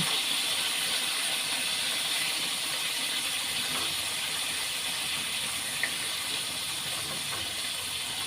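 Liver marinated in kalamansi, soy sauce and pepper frying in hot oil, a steady, even, hissing sizzle that carries on without a break, close and fairly loud, with no one talking.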